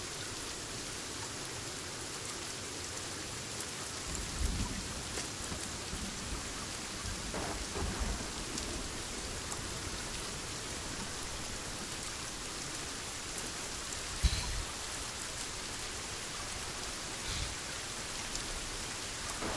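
Heavy rain pours steadily in the survival game Sons of the Forest, a dense loud roar with low thunder rumbles rolling in the background and a sharper crack near the middle.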